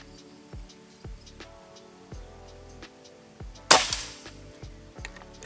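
A Sampoerna bocap cap gun fires a single sharp, loud crack near the end, preceded by regular soft mechanical clicks and ticks at roughly one-second intervals.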